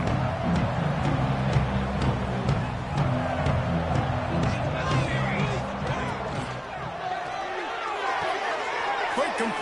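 Football stadium crowd cheering after a punt return, a broad roar of many voices that dips briefly then swells again.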